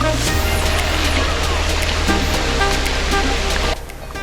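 Artificial waterfall pouring into the man-made sea at Siam Amazing Park gives a steady, loud broadband rush of falling water, constant throughout and easing slightly near the end, with crowd noise mixed in.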